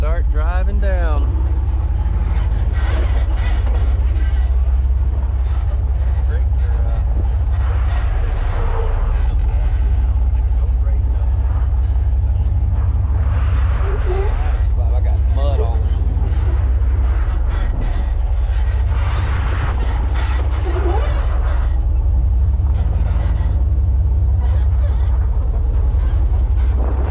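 A Jeep driving down an off-road trail in Moab, a loud steady engine drone with rumbling and creaking from the rough ground, with voices talking over it.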